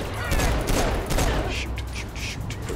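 Gunfire with explosive bullets in the Saints Row IV video game, dense bursts of shots and impacts mixed with game effects, with a player talking faintly over parts of it.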